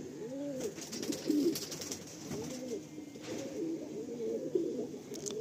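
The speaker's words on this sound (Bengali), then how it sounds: "চটিয়ালটা হচ্ছে ফিমেল, একদম শর্ট সাইজ পায়রা" A small female chotial pigeon coos softly in repeated rolling phrases, close by and fairly quiet, with a few brief rustles between calls.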